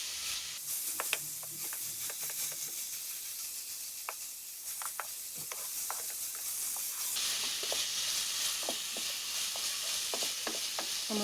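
Spices for Kashmiri radish chutney fry in a pan over low heat, a steady hiss and sizzle with scattered scrapes and clicks of stirring, growing slightly brighter partway through.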